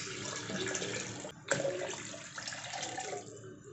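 Water pouring into a mixer jar over a spoonful of collected milk cream for homemade ghee, a faint, close, continuous gush with a brief splash partway through.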